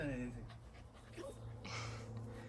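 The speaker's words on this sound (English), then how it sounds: "It's a clever but crazy dog." A cocker spaniel puppy pants close by in quick, soft, rhythmic breaths, with a person talking over part of it.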